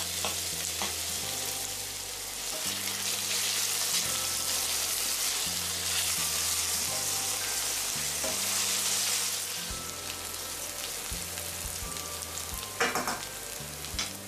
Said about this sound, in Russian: Добавляю лук и обжариваю еще 2-3 минуты.